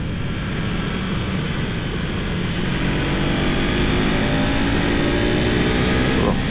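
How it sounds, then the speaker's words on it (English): Low, steady engine drone from a 2025 KTM 390 SMC-R supermoto lugging at low revs in fourth gear, under heavy wind rush, with the engine note slowly rising in pitch as the bike pulls. "I've got this thing in fourth, and it's lugging pretty good"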